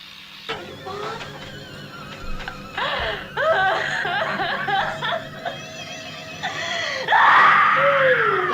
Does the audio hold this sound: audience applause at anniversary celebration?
no